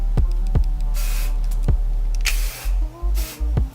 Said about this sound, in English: Lift the hair up and spray in between.